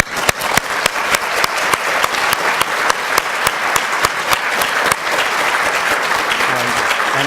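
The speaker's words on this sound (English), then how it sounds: "please, with a round of applause" A symposium audience gives sustained, dense applause during opening remarks. Sharp individual claps ring out at the front over a steady wash of clapping from the room, holding at an even level for several seconds.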